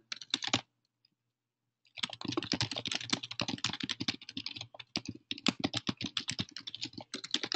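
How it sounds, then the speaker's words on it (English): Rapid typing on a computer keyboard, a short burst of key clicks, a pause, then continuous close-up tapping with an uneven rhythm. "So let's say you're just typing some random words in here"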